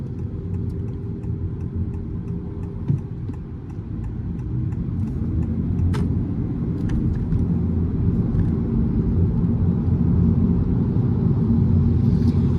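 A 2025 Honda Civic e:HEV hybrid drives in normal mode, giving a steady low cabin rumble of road and drivetrain noise that grows slightly louder after the first few seconds, with no talking.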